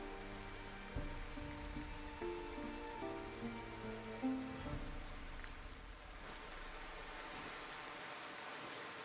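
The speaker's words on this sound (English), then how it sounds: "Also, the rain here sounds so brutal." Rain falls in the video game Wartales as a quiet, steady hiss, with low musical tones layered underneath and a few soft thuds.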